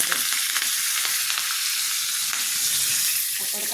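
Mustard seeds, asafoetida and curry leaves hit hot oil for a tadka in a Marathi kitchen, giving a loud, continuous crackling sizzle with no talk.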